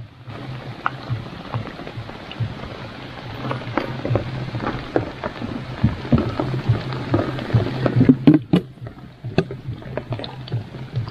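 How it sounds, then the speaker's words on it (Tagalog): Rain patters steadily on a rainy morning near water, with scattered drops and a low background rumble, and some sharper knocks toward the end. "Maulan na umaga."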